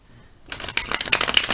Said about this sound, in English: I like to shuffle on camera just to pick up the energy of those who may be